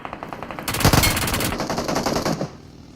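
Rapid automatic SCAR rifle fire in the BGMI battle royale game: a loud, dense burst of shots that keeps rattling for about two seconds before stopping, with no talk over it.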